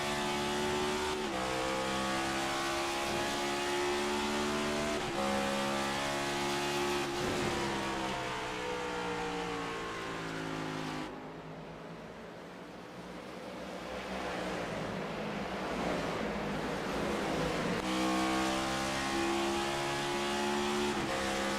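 Stock cars in a NASCAR Next Gen sim race at World Wide Technology Raceway, engines droning and revving steadily in a dense pack, briefly dipping before the roar builds back.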